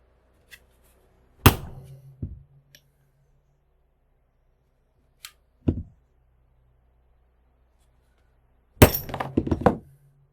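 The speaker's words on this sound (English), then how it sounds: "We got that bushing that we need to pound out." Socket struck against a stuck bushing on a scrapped tiller part: sharp, loud metallic blows, a single hit, then a second, a lone strike later, and a final burst of several rapid impacts, with quiet gaps between.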